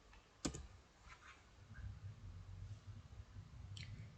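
Sparse, faint keystrokes tap on a computer keyboard, a sharp click near the start and a few softer taps scattered after it over a low, quiet room hum.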